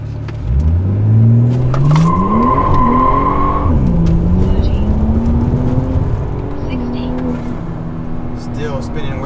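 A car with a Stage 3 XHP transmission flash accelerates hard on a dusty road during a 0-60 drag run, engine revving up through the gears with tire squeal from wheelspin, loud and close, while a person talks over it.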